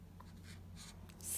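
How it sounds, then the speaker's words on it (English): A pencil writes numbers on paper in a few short, faint scratching strokes, close by and quiet. "this is how we're gonna write our numbers"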